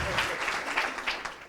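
An audience at a school talk on disciplinary fragmentation and transdisciplinarity gives sustained applause, a steady dense wash of clapping with light rhythmic peaks and a faint murmur of voices underneath.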